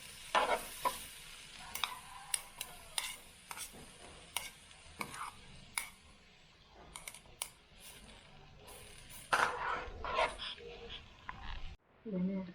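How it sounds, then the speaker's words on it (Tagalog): Chopped garlic fries in cooking oil in a pan, giving a soft sizzle broken by sharp scraping and tapping from stirring, while a voice speaks now and then. "Maglagay po ng mantika. At piprito tayo ng bawang"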